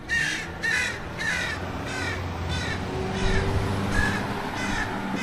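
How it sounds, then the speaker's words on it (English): Two ravens in a tree in Skagway, Alaska, give a run of harsh, repeated caws in irregular bursts, fairly close and loud over a steady outdoor background rumble. "It's probably one of those big old ravens making all that racket."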